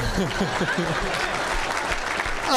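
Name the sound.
audience applause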